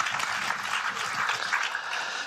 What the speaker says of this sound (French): Je vous demande de l'applaudir, messieurs, dames.